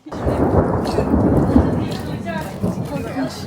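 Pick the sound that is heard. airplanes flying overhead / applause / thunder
thunder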